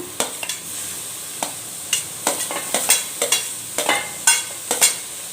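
Tomatoes tossed into browned fried masala in a pan give a close, steady sizzle broken by a quick run of sharp spatula scrapes and knocks against the pan.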